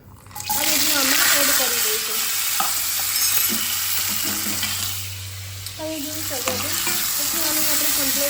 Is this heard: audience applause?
no